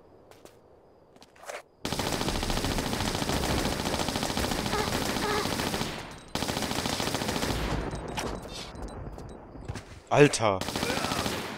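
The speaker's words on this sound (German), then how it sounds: "Die Uzis gehen ab, ey." Uzi gunfire in the video game Tomb Raider IV: long, loud, rapid automatic bursts broken by brief pauses, with a man exclaiming over the shooting.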